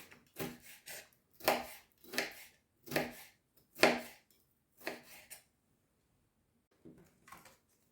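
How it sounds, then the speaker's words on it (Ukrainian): A knife cuts red bell pepper into thin strips on a board, giving about seven crisp, evenly spaced chops, close and distinct, followed by a pause and a couple of lighter cuts. "Такими соломкою такою наріжу."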